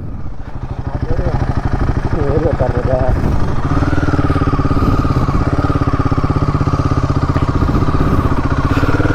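A Royal Enfield Himalayan 450 motorcycle engine runs steadily and loudly close by, its rumble rising slightly as the bike is ridden, with a voice talking briefly over it near the start.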